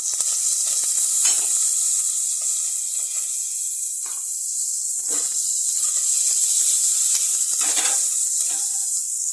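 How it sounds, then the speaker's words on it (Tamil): Mustard seeds, urad dal, cumin, dried chillies and curry leaves sizzle in hot oil, giving a steady close hiss with scattered faint pops and crackles throughout. "கடுகு, உளுந்து, சீரகம்லாம் பொரியட்டும். பொரிஞ்ச பிறகு ஒரு 4 காஞ்ச மிளகாய் போட்டுக்கோங்க."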